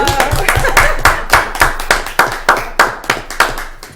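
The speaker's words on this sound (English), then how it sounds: "Deserves applause for that." Hands clapping at a conservation commission meeting, a steady run of sharp claps spread evenly across the moment. It sounds like a small group in a room, close and moderately loud, with no talking over it.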